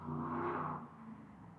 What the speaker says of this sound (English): I'm not sure what that noise was in the pickup truck